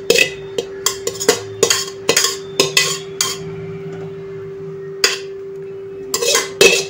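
Fried soybeans tipped into a pot of gravy, with a series of sharp metallic clinks and scrapes of a spoon against the pot, irregular and close, pausing midway and then resuming, over a steady low hum.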